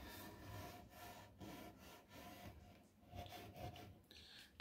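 Hand rubbing across a rough, textured salt wash paint finish on a wooden farmhouse hutch, a dry scratchy rasping that repeats in steady strokes close up, fairly quiet, with a brief louder scrape at the end.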